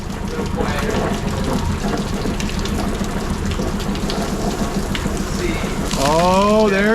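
Boat engine cooling water spurting, a steady splashing water spray with engine rumble underneath, growing louder near the end as voices chime in.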